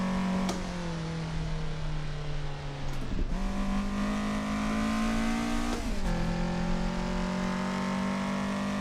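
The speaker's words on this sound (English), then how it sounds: "going almost full throttle and then heavy on the brakes" A Toyota AE86 runs a mountain road near full throttle, its engine wailing loud and rising in pitch, dropping sharply twice with gear changes around braking before climbing again, heard close with no voices.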